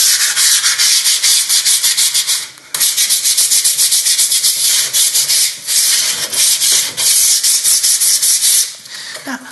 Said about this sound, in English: If it's a good door, it doesn't take a lot of sanding down.